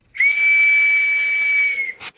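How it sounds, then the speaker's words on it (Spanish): A night watchman's whistle gives one long, loud, steady shrill blast of about a second and a half, close and alone, ending with a short breathy tail. "El silbato era esencial para dar el alto a un sospechoso o avisar a las autoridades"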